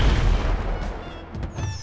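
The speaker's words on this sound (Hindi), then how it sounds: "ये देखो ये गांव वाले कैसे दिल खोल के पटाखे फोड़ रहे हैं यार" Firecrackers set off by villagers during Diwali boom in deep, rumbling bursts, loud and overlapping, with a hissing crackle fading between them.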